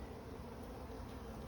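Honey bees buzz steadily during a hive inspection, a dense, continuous hum filling the air close by with no pauses and no voices.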